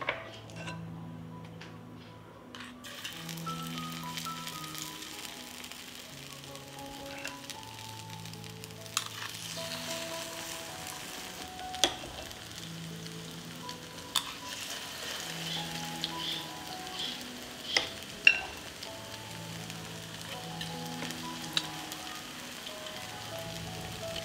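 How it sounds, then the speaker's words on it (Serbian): Zucchini fries in hot oil with a soft, steady sizzle and occasional pops, under quiet background music. "Ulje se zagrejalo i sad ćemo pržiti tikvice."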